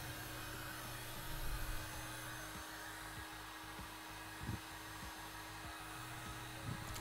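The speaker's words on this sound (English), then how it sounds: "So I'm proposing to use a heat gun, which should be used for, let's say, stripping paint, rather than a gas torch." A heat gun blows hot air onto a die-cast Dinky Toys Stuka dive bomber model, No 721. Its steady, close whooshing hiss runs for about seven seconds, broken only by a few faint knocks, with no talking.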